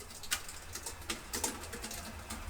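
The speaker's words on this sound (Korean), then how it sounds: "이제 마지막으로 이전 에어로 15 키보드 소리입니다." Quiet, muted keystrokes on an older Gigabyte Aero 15 laptop keyboard, a sparse irregular run of soft taps heard close up and alone.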